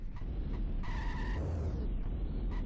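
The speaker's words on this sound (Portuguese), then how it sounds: "O som do veículo." A car engine in The Simpsons: Hit and Run revs and tires squeal in short skids, loud and close, with pitch sweeping up and down.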